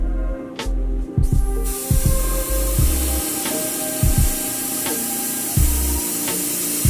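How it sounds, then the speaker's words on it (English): An airbrush sprays paint through a stencil onto a shoe, a steady hiss of spraying air throughout, broken by repeated low thumps and knocks from handling nearby. "I'm gonna just go ahead and spray through the panel."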